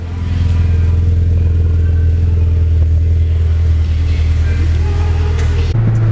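An RSX Type-S with a custom exhaust idles up close, a loud, steady low drone with a slight tonal shift near the end.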